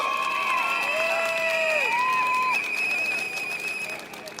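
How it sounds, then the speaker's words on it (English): A political rally crowd in Pasir Ris cheers and applauds a new speaker, with loud sustained shouting, whistles and clapping that gradually fades. "Let's give him a big applause"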